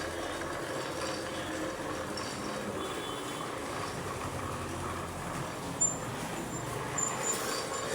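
Lathe and other metalworking machines run steadily on a factory floor in Dhaka, a dense mechanical clatter and ratcheting hum that fills the space throughout, with one brief sharp knock near the end.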